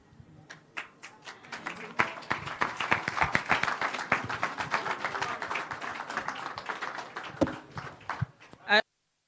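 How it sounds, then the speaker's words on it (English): A school group of students from Sydney Pagan STEM Academy receives a round of applause at a World Milk Day event. The dense, fairly close clapping runs steadily for about eight seconds, then stops abruptly. "they deserve a more rousing round of applause"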